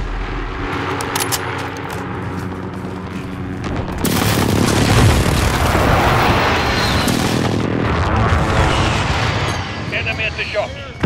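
A precision airstrike in Call of Duty MW erupts into a dense wall of heavy explosions and booming blasts after a quieter stretch of game noise, with in-game voice callouts around it.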